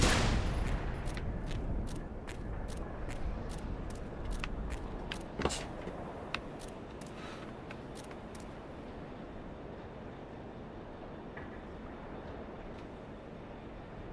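Gunfire in the video game Fallout 4, a series of sharp isolated shots spread across a low background rumble, most of them faint with one louder crack.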